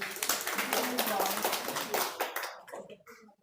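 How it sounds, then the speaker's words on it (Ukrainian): Applause at a creative community's welcoming ritual, broadband clapping with some voices mixed in, tapering off toward the end. "Аплодисменти."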